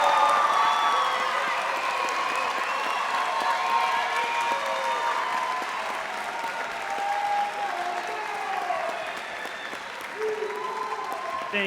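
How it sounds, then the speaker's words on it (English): Sustained applause from a graduation ceremony audience of friends, family and staff fills the hall, dense steady clapping with a few cheers and whoops, moderately distant and continuous throughout. "give a round of applause to those friends, family, and staff members in the audience"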